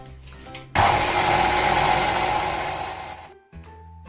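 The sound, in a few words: mixing bread dough for Turkish pide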